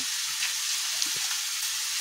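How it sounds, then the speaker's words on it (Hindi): Grated bottle gourd frying in hot ghee for lauki barfi, a steady close hiss of sizzling fat with a faint stir or two and a small clink at the very end; no talking. "घी हमारा गर्म हो चुका है, अब मैं इसमें ये घिया डाल दूंगी।"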